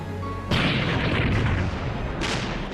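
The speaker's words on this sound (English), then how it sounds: "We fired very slowly, with deliberation, while the Kaiser-class ships in front of us shot like mad." Heavy naval guns fire at the Battle of Jutland: two deep, booming blasts, each with a long rumbling tail, the second arriving about two seconds after the first, loud and close.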